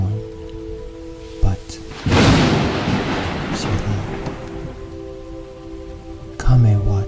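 A raging storm with heavy rain drumming steadily and thunder cracking then rumbling through the middle, sounding as an effect beneath a narrator's voice and quiet music.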